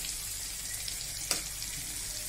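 Eggplant frying in oil under a lid gives a soft, steady, close sizzle throughout, broken by one brief sharp pop midway.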